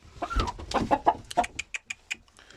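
Chickens cluck in a short series of close, sharp calls, a hen among them, rising in a brief burst of squawks before tapering into scattered clucks.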